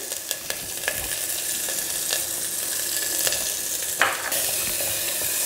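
Garlic, onion, curry leaves and green chili temper in hot oil with a loud, continuous sizzle up close, punctuated by sharp spatters and stirring clicks.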